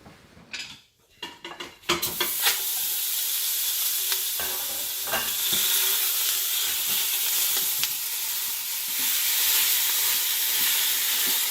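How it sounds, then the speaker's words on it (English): Ground beef and ground sausage dropped into a preheated Instant Pot on sauté, a few handling knocks, then a loud, steady, close sizzle that holds without a break, with light scraping of a utensil and no talking. "So we're ready to get our meat browning in the Instant Pot."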